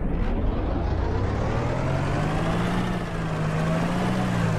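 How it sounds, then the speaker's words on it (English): A car engine in the World War II combat game Chernarus: Invasion 1944 drones steadily at a distance, a low humming tone that wavers slightly in pitch over a constant rumble, with no talking. "All right, I hear another car."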